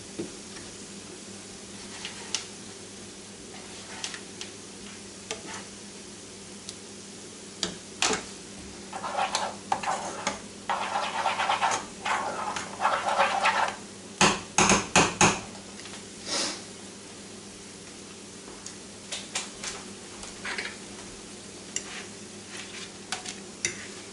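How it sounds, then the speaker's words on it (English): Chorizo and refried beans are stirred together with salsa in a pan, giving quiet scraping and soft sizzling that build into a busier burst of spoon and pan clatter midway before settling back down. "mixing it with the salsa"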